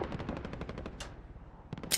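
Video game gunfire: a rapid burst of automatic shots cracks out in quick succession, followed by a sharp blast and then a few more shots, moderately loud with no voices.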